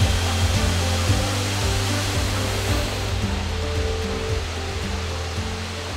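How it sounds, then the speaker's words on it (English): A tall waterfall along the Road to Hana on Maui roars as a steady, dense broadband rush, loud and unbroken throughout with no voices over it. "I feel like this might be the tallest waterfall I've ever seen."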